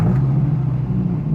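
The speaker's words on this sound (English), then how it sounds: "Let's start the car up for the first time since October" A modified car's engine, started for the first time since October, rumbles steadily at close range, a low continuous idle with no voices.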